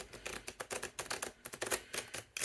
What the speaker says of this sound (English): these tarot cards that I'm going to shuffle, even though they're kind of hard to shuffle